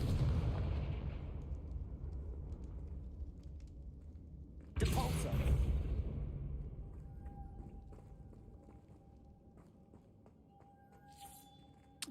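The Confringo fire spell bursts in the Hogwarts Legacy video game, a sudden fiery blast that erupts mid-clip over a rumbling game background, then fades into quieter ambience.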